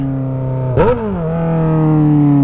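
A Honda Hornet motorcycle with a stainless steel exhaust idles loudly up close, then gives one quick blip of the throttle that briefly roars before settling back to a steady idle.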